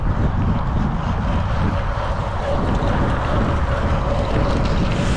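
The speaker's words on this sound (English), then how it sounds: "Whoa, it's windy." Strong wind roars and buffets steadily across the microphone, a constant loud rush with faint water or boat rumble underneath.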